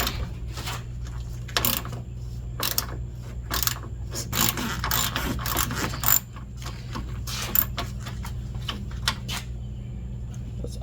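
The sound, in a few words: ratchet unscrewing parts to remove radiator on 2003 Acura TL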